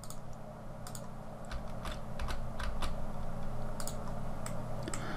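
Mouse clicks on a computer running Blender come as a series of sharp, close, irregular clicks over a low steady hum, with no talking.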